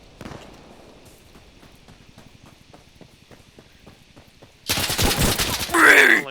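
Gunfire in the shooter game Insurgency Sandstorm from a suppressed Honey Badger rifle: a quiet rapid string of muffled shots, then a burst of loud close firing toward the end.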